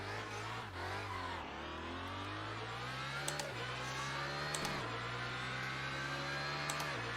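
A formula-style sim racing car's engine drones steadily through a lap, its pitch climbing and dropping through repeated gear shifts, loud and continuous with no speech.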